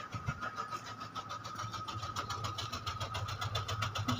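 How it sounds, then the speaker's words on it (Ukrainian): A car engine struggles to run on LPG in cold weather with a frozen gas reducer, idling unevenly with a pulsing, sputtering rhythm up close for a few seconds. "Ну, пытается работать на газу, хотя температура ужасно низко."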